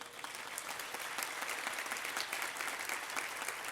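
An audience at a Jain religious discourse in Jabalpur claps steadily, a dense, even patter of many hands that goes on without pause and sounds moderately distant.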